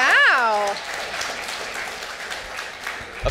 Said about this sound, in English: applaud if you think we need more bike lanes